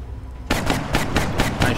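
Rapid gunfire erupts after a short quiet moment in the turn-based strategy game XCOM Long War, a string of sharp, evenly spaced shots that ring out loud and close.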